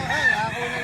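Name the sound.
rooster crowing at a gamecock sale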